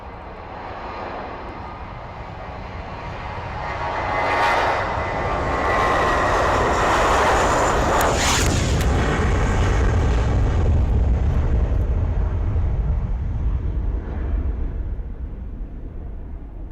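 A Lufthansa airliner departing from the runway, its engine roar swelling steadily from a moderate distance into a loud, sustained rumble with a whining high-pitched edge that holds for many seconds.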